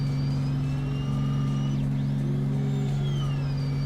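A steady droning aircraft engine hums during the climb after takeoff in the Microsoft Flight Simulator video game, holding a constant pitch with a faint whine and a slight tonal shift midway, alone without talk.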